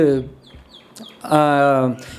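A chicken clucking in the background, a couple of harmonic calls with a louder drawn-out cluck near the end, heard against faint room noise and no clear speech.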